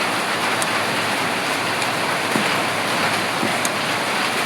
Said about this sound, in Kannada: ಫ್ರೈ ಮಾಡ್ತಾ ಇದ್ದೇನೆ ಸ್ವಲ್ಪ